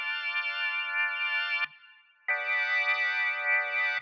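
A sustained organ chord from a Kontakt sample library with a swirling, warbling rotary-speaker shimmer, cutting out briefly before resuming loud and steady.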